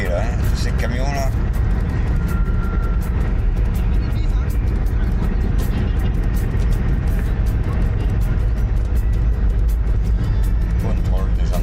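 Constant heavy road rumble from traffic with loaded trucks on a Senegal road, a deep engine and tyre drone heard from inside a vehicle, with voices talking over it throughout.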